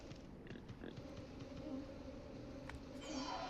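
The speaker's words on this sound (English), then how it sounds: "I hear the bees in the corner of my ear" Bees buzz quietly in the Monster Hunter Stories video game, a faint steady insect drone mixed with soft game ambience and occasional small clicks, with no speech.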